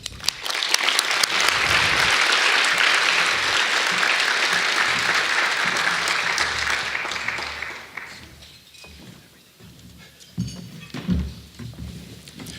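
An audience at an arts event applauds to welcome David Fraher, executive director of Arts Midwest: loud, dense clapping that sustains for several seconds, then thins out and fades to scattered claps.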